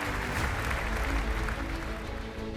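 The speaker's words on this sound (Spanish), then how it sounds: "se pudo descubrir la restauración bajo un fuerte aplauso a quienes salvaron la catedral," A crowd applauds the firefighters at the reopening of a restored cathedral, a dense, sustained wash of clapping heard from a moderate distance.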